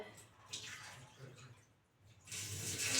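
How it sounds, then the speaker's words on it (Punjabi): Water is poured into a cooking pot before making kheer in a village kitchen, a soft, quiet splashing stream that fades briefly and then returns as a louder gush at the end. "ਤੇ ਪਾਣੀ ਰੱਖ ਲਿਆ ਪਤੀਲੇ 'ਚ"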